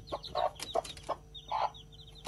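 Free-range village chickens kept in a home yard cluck in short, irregular bursts, several birds close by with quiet moments between calls and no one speaking.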